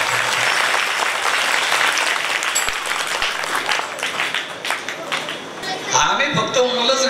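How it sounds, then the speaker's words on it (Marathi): An audience at a Marathi comedy kirtan claps loudly and steadily for Swapnilji Maharaj Kalane, dense applause that thins slightly before a voice begins speaking over it near the end. "स्वप्नीलजी महाराज काळाने यांच्यासाठी जोरात टाळ्या वाजवा जोरात"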